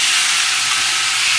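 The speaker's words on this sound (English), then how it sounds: "It's a narrow, small gauge locomotive, and they had little steam engines like this" A small narrow gauge steam locomotive from an island sugarcane plantation line lets out a loud, steady hiss of steam that fills the whole moment without a break.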